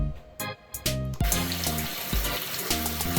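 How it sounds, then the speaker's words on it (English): Tap water pours into a DIY RDWC hydroponic tray system, a steady splashing flow with a few gurgles and brief interruptions as the stream starts and stops. "So what I'm going to do now is fill it up with water."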